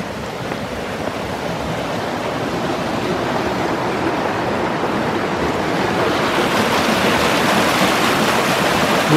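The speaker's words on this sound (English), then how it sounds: "The swimming hole." Steady rushing water at a swimming hole along a wooded nature walk among pines and cedars, a continuous broadband wash that swells slightly louder toward the end, heard alone without talk.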